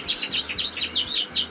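Goldfinch in an indoor aviary chirping in quick, bright repeated bursts, close and clear with no voices.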